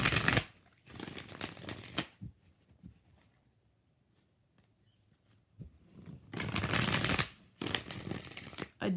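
Tarot cards are shuffled in quick riffling bursts, two at the start and two near the end, with a quiet stretch of faint handling between.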